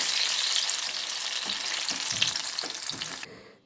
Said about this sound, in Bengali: কড়াই বসিয়ে ভাজার জন্য পর্যাপ্ত পরিমাণে সাদা তেল দিয়ে 2-3টি করে কড়াতে দিয়ে অল্প তাপে লালচে করে দুদিকে